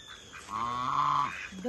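A single loud nasal quack rings out close by, followed by the start of another call, with quiet background noise.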